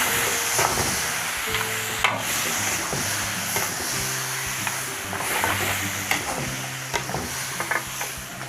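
Marinated meat for Filipino apritada frying in a pan while being stirred, a continuous loud sizzle with repeated scraping and knocking of the utensil against the pan.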